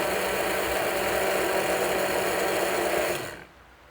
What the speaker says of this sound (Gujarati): બરાબરનું બ્લેન્ડ કરી દઈએ ને મસ્ત.